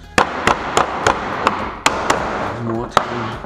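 Sharp metallic taps from a hammer flattening standing seam metal roofing ring out in an irregular series, about ten strikes, close and fairly loud.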